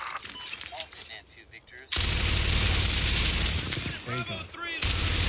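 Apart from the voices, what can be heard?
gunfire in TV series Generation Kill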